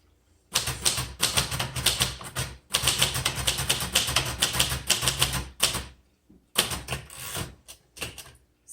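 Rapid keystrokes clatter on a green 1973 Royal Sabre portable typewriter, three long bursts of brisk mechanical typing close up, separated by short pauses, with no talking.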